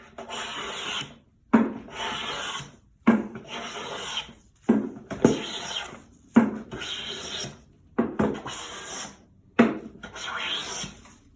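A Blum hand plane shaves wood in about seven steady strokes, each a close, rasping swish followed by a brief pause.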